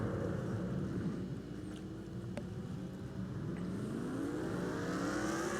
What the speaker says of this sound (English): Look at all those cars coming by on the outside.